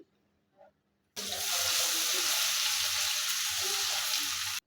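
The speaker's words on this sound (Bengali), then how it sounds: "পাঁচফোড়ন 10 সেকেন্ডের মতো নাড়া দিয়ে এর মধ্যে দিচ্ছি 1 টেবিল চামচ রসুন কুচি।" Chopped garlic and panch phoron spices hit hot oil, bursting into a loud, steady sizzle after a quiet start with a faint clink, continuing close and unbroken to the end.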